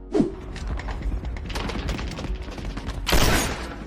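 Shotgun blasts from the Halo 3 video game, a loud burst of gunfire at the start followed by a dense rattle of shots and impacts, with another heavy blast near the end.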